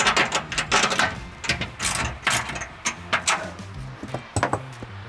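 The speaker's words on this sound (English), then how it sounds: "All of these side bolts here down the side frames, I'm gonna tighten them up right now" A ratchet clicks in quick repeated strokes as side frame bolts are tightened on a Ford Bronco during a Slipstream top installation, close and fairly loud with short pauses between runs.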